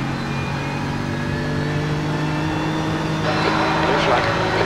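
A BMW M4 GT3 race car at Suzuka in the iRacing game holds a steady, droning engine note with a faint rising whine. The engine grows slightly louder and busier near the end as another car closes in.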